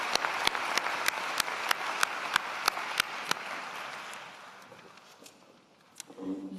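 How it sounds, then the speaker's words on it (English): An audience at a university convocation applauds, a broad wash of clapping under sharp rhythmic beats, fading away after about four seconds before a brief clatter near the end. "One more round of applause, please."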